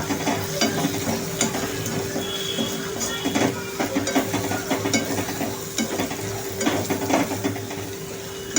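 Roasted garlic and green chillies fry in a pan for a ridge gourd bharit, a steady close sizzle broken by regular stirring scrapes and light utensil clicks throughout, with no voices.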